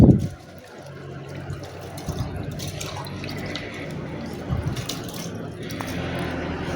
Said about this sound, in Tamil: நல்லா கை திருகி விட்டு நல்லா வாஷ் பண்ணிக்கலாம்.